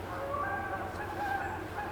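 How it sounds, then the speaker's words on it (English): Canada geese overwintering near a house honk and call outdoors on a chilly night, several birds sounding at a steady mid distance over a constant low background rumble. "You guys are gonna hear the geese. We have Canada geese"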